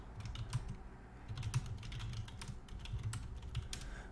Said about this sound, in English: Let me just type back to him.